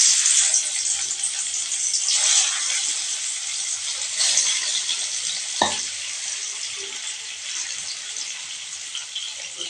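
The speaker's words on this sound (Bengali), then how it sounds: "তেলটা ভালো মতন গরম হয়ে গেছে, এবারে মাছগুলোকে ভেজে নেব ভালো করে" Fish frying in hot oil, a steady broad sizzle that runs throughout with small crackles and a brief sharp clink midway, close and moderately loud, no talking.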